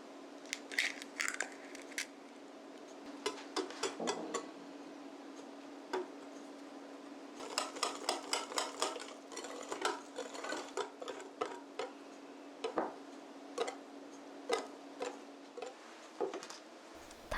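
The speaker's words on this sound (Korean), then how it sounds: "우유와 가루, 계란을 넣고 덩어리 없이 잘 섞어줍니다" Whisking a waffle batter of milk, flour and eggs in a bowl at home, a steady run of light, quick clicking taps against the bowl rising and falling over a low background hum, with no talking.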